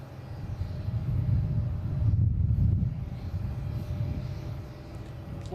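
A JetBlue jet on runway 22 right at Boston Logan International Airport makes a low, steady engine rumble heard from a distance, swelling slightly in the middle and then easing off.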